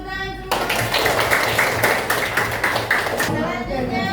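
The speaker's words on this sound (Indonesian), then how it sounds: "silakan duduk, beri tepuk tangan semua." Students in a sixth-grade classroom clap together in a brisk, loud burst of close hand claps lasting about three seconds, with talk just before and after.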